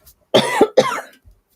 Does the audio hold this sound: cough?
yes